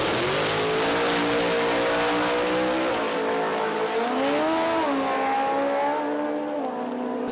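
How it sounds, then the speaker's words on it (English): A drag race car, driven by Fran Schatz, makes a quarter-mile pass on a career-best run. The engine roars loudly and steadily, its pitch climbing and sweeping through shifts, with a brief tire squeal along the way. "Career best quarter mile hit for Fran Schatz."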